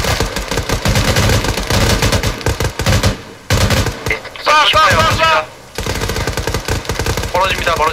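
Dense, loud automatic gunfire from an Arma 3 night firefight, rapid bursts hammering almost continuously with short pauses, while players shout over the shooting.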